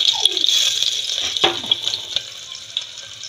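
Garlic, onion and green chili hit very hot oil with a steady bright sizzle and a few sharp scrapes and clinks of stirring, close and fairly loud, with no one talking.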